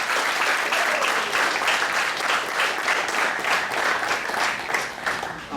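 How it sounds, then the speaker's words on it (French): An audience at a graduation ceremony applauds the director's speech with sustained, full clapping that stays strong and even, then fades slightly at the end. "Encore une fois, on a applaudi directeur Médé pour très beau discours"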